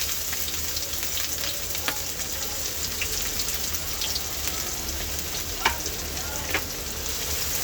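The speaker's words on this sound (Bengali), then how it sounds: "এটাকে আমি একটু ভাজা ভাজা করে নেব।" Chopped onion fries in hot oil in a kadai, a dense, continuous sizzle close by with a few soft stirring ticks and pops scattered through.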